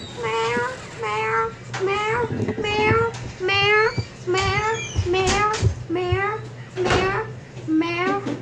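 A voice imitates a cat, repeating a drawn-out meow over and over in a steady, rhythmic sequence, close and loud.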